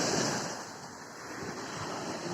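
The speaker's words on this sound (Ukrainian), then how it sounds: "Ну прибой, видишь, оно с каждой волной все дальше и дальше." Stormy Black Sea surf at Chornomorsk, a continuous loud roar of breaking waves with broadband wash and some wind noise throughout, no voices.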